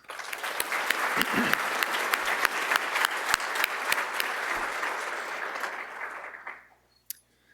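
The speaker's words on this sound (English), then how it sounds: "Let's give them a round of applause" Audience applause at a community event in Omaha, a dense burst of clapping that holds steady for about six seconds, then fades out quickly, with one isolated clap near the end.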